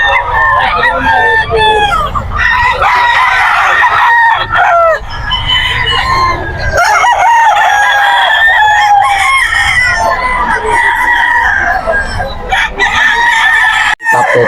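A White Kelso rooster with a straight comb crows repeatedly amid other roosters and clucking fowl at a busy pet market, the calls loud and near over steady crowd noise.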